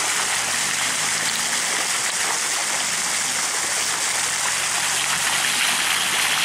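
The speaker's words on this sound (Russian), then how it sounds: "как раз перед домом целый день слышно фонтан" A water fountain in front of a house splashes continuously, a steady close hiss of falling water with no pauses and no voices.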